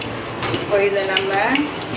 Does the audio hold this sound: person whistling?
no